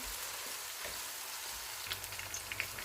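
Chopped onions fry in a pan for a turnip chicken gravy, giving a steady close sizzling hiss with a few faint crackles and pops toward the end.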